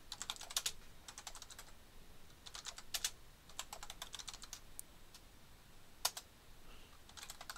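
A command is typed on a computer keyboard while setting up a Linux server: quick bursts of crisp key clicks separated by short pauses, close and fairly quiet.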